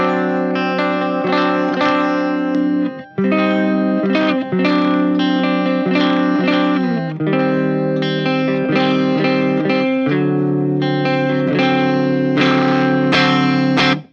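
Electric guitar played on a clean channel through a Peavey Triple XXX amplifier, sounding bright and somewhat harsh. Sustained chords and picked notes ring continuously, loud and close, with brief breaks between phrases and no talking.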